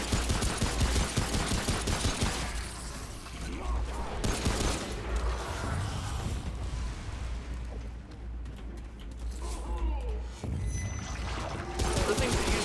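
Enemy gunner's weapon firing in the shooter Remnant: From the Ashes, a loud, dense run of rapid shots with booming low rumble, persisting through most of the stretch under a talking voice.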